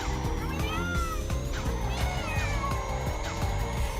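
Purah, a cat character in the kart racing game Crash Nitro Kart, meows in short warbling cries that rise and fall repeatedly over a steady, busy music and engine bed.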